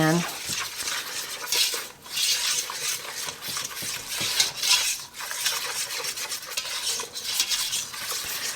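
Flour is whisked into melted butter in a pan, giving a continuous brisk scraping and stirring with metallic clinks against the pan. It sounds close and fairly quiet.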